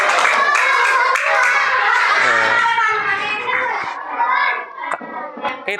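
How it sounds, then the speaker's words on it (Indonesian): Children in a classroom clap together for a presenting group, a dense burst of applause with kid voices and shouts mixed in, loud at first and thinning toward the end. "Oke, tepuk tangan untuk kelompok 4."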